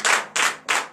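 A congregation at a morning prayer service in Benin claps in unison: three loud, sharp group claps, evenly spaced and close by.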